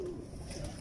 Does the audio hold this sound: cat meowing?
no